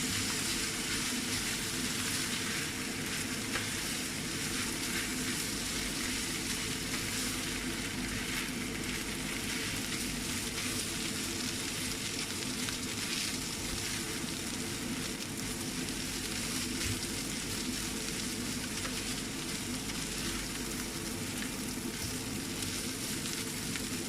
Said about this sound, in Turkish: Onu da birlikte biraz kavuralım. 2-3 dakika kadar kavuruyoruz.